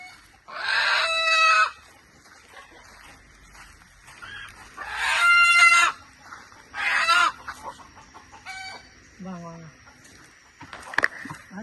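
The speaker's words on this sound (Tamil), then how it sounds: "இப்போது அம்மா கோழியை தான் முதல்ல தூக்கிட்டு வரோம் எப்படி சத்தம் போடுது பாருங்கள்" A mother hen squawks loudly in several harsh, agitated bursts as she is picked up and carried, separated by short pauses, close by, with smaller clucks and rustling in between.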